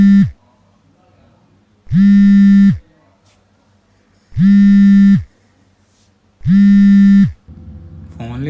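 A phone call rings unanswered, with four loud, steady electronic ring tones, each about a second long, separated by pauses of silence.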